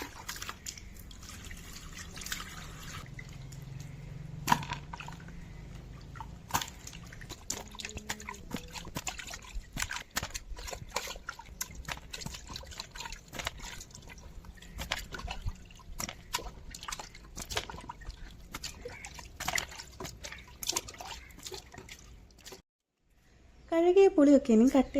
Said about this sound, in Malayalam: ഇന്ന് കിട്ടിയ പുളിയൊക്കെ നമുക്കിനി ഒന്ന് കഴുകിയെടുക്കാം കേട്ടോ